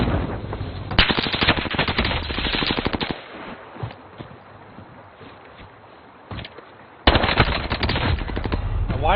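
Rapid automatic machine gun fire in Call of Duty, heard as loud, dense bursts at the start and again at the end, with a quieter stretch of scattered game sounds in between.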